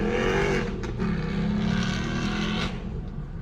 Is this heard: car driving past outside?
yes